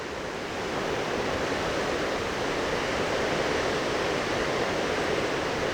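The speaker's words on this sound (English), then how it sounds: "I like watching the waves getting funneled through there like that." Ocean waves rush through a rocky coastline channel among small islands and sea stacks, a steady, full-bodied roar of surf that holds constant with no breaks or voices.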